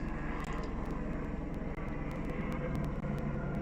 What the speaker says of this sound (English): Sandparks helicopter. It's flying by, doing their job for anti-poaching.